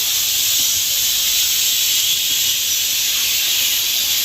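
Bhature frying in hot oil in a new iron kadhai, a loud, steady, continuous close-up sizzle and hiss with no talking.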